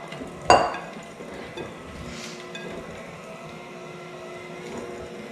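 An electric mixer churns thick coconut cookie dough, a sharp clink of metal on the bowl at the start, then a low, steady motor drone that is fairly faint.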